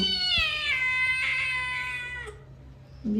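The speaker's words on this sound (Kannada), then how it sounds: "ಬೆಕ್ಕು" A cat recently arrived at a family home gives a loud, close, drawn-out meow with a second rising cry, alone with no talking.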